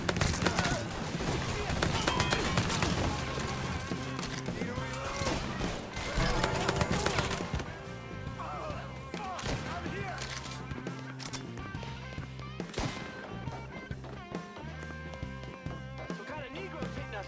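Gunfire in a shootout in Mafia III, scattered and overlapping shots amid busy game noise and music, with voices shouting during the fight.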